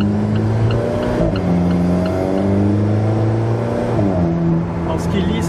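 Alfa Romeo 4C turbocharged sports car driving on the road, its engine droning steadily from inside the cabin, pitch rising through a gear, dipping at a shift and climbing again, loud and continuous without speech.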